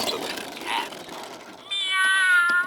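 A See 'N Say toy plays a recorded cat meow, a bright harmonic tone lasting about a second after a noisy lever whir, close and fairly loud with no talking.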